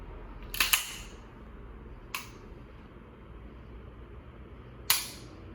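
A handgun's trigger is pulled three times, giving sharp, distinct clicks spaced a second or more apart over a steady background hum, close by with no talking.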